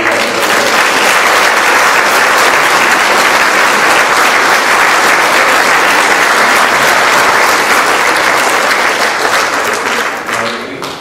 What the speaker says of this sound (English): I think that we should applaud the councillors.